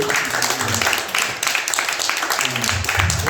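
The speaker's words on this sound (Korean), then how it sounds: "우리 한번 크게 박수 한번 더 한번 경험을 해보겠습니다." Congregation applauding in a church, a continuous wash of many hands clapping, fairly loud and steady, with voices mixed in beneath.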